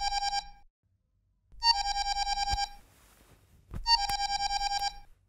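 A phone ringtone plays in three bursts of rapid repeating electronic tones, separated by short pauses, with faint thumps and rustling between rings.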